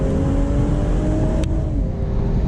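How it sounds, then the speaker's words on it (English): A 2023 BMW Z4 M40i accelerates hard, its engine note droning loud and steady with rising harmonics, a brief shift-like break midway, heavy wind and road roar throughout, no talking. "All right, so here we'll have some acceleration."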